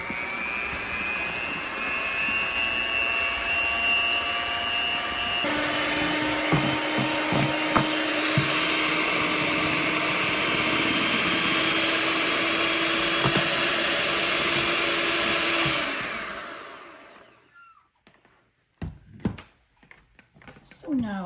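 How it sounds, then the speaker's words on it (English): An electric mixer beats eggs with salt and powdered sugar, a loud steady motor whine that runs for about fifteen seconds and then winds down, followed by a few light clanks and taps. "I'm gonna beat this for about 10 minutes until it becomes creamy."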